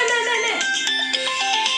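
A phone ringtone plays a bright, repeating electronic melody, close and clear, with no talking over it.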